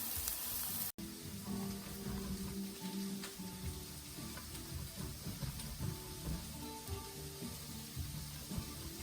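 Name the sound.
peppers and onions sautéing in a pan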